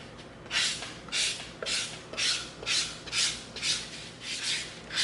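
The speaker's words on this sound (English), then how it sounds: "now we're gonna come in with our 220 sanding stick" Steady back-and-forth rasping of a 220-grit sanding stick on EVA foam, about a dozen rhythmic strokes, close up with no talking.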